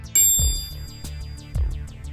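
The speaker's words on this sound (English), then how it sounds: "That's the sound of Mizuno's MP67 muscleback." A single crisp golf ball strike off a Mizuno MP67 forged muscleback iron: one sharp click with a brief bright ring, set over a steady rhythmic music bed.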